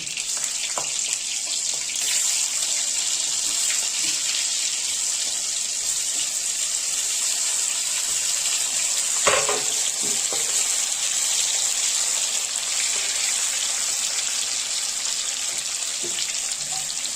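Pointed gourd with green chillies and black cumin frying in mustard oil gives a steady, close hissing sizzle throughout, with a few brief clinks partway through.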